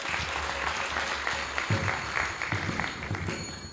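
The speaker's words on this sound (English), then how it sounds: "So a huge round of applause for Gundicha Mataji." Audience clapping at a Bhaktivedanta College of Education and Culture graduation, a steady, moderately loud round of applause from a seated crowd that carries through the whole stretch.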